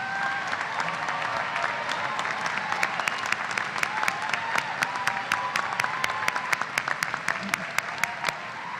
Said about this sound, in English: Let's join together and give our associate and baccalaureate students another round of applause